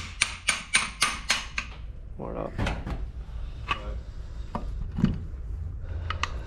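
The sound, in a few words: small hammer tapping on a Bosch Gen 2 motor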